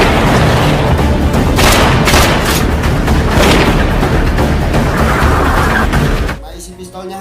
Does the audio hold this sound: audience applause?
no